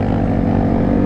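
A Yamaha 450 dirt bike engine whose brake has failed, droning loud and steady as a close continuous buzzing roar with a rough, pulsing texture and no talk.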